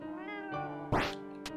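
A cat in Momodora: Reverie Under the Moonlight gives a short meow, then a sharper, rising cry, and ends with a brief chirp, heard close and clear over a soft sustained musical tone.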